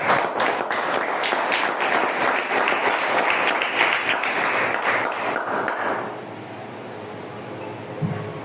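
A church congregation applauds during a sermon on divine healing, a thick, sustained wash of many clapping hands that holds for about six seconds and then fades to quiet room tone.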